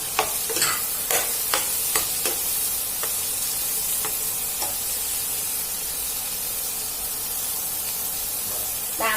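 Pork, shrimp, baby corn and long beans stir-fried in a hot pan for drunken wide rice noodles, with a steady loud sizzle, a run of sharp clattering stirs at the start, then a continuous hiss.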